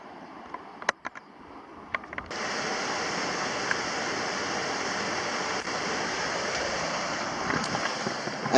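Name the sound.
river flowing at the bottom of a gorge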